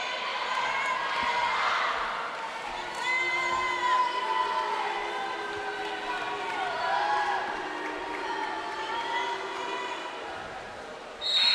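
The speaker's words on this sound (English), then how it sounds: "What a crowd here this evening for this game." Crowd noise fills a high school boys basketball gym during an evening game, a steady roar of voices and shouts with cheering swells throughout, loud and continuous with scattered higher yells.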